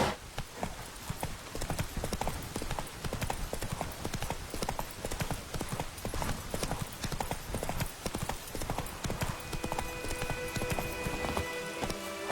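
Hooves of a galloping horse in the video game The Witcher 3 pound in a fast, steady clip-clop rhythm for several seconds, close and continuous, with faint rain-like ambience and a brief voice near the start.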